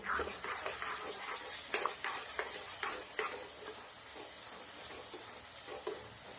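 Spinach puree mixed with turmeric, crushed coriander-cumin and salt sautés in a pan, giving a steady soft sizzle with a few clinks of stirring, close and fairly quiet, with no talk.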